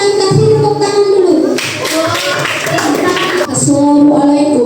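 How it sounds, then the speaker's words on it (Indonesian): Group of students applauding after a class group presentation, a dense burst of clapping in the middle of the clip between stretches of talk. "Kita kasih tepuk tangan dulu."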